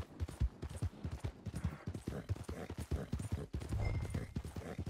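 Horse hooves in Red Dead Redemption 2 clip-clop in a steady, rapid rhythm throughout, close and clear, with a faint breathy snort near the end.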